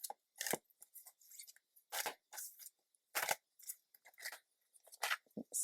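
Shuffling an oversized deck of long tarot cards, sounding as a series of separate crisp swishes and slaps at an uneven rhythm, close to the microphone and fairly quiet.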